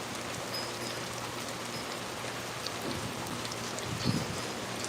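Steady rain falls throughout, a soft continuous patter with a few louder drops near the end.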